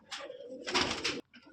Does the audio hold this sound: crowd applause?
no